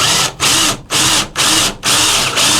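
A power drill bores holes in the floor pan during a 1971 Ford Mustang Mach 1 restoration, running in several loud, close bursts separated by brief pauses.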